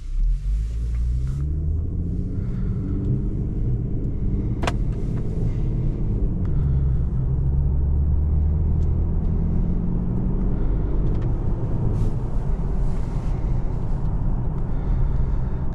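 A 2019 Infiniti Q70 all-wheel-drive 3.7-liter V6 engine hums and rumbles steadily while driving, a low continuous drone with road noise and a few faint clicks.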